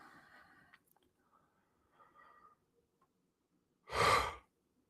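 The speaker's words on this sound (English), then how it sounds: "I don't know why I'm yawning." A person yawns once, a loud drawn-out breathy exhale close to the microphone after a few seconds of soft, indistinct murmuring, then quiet.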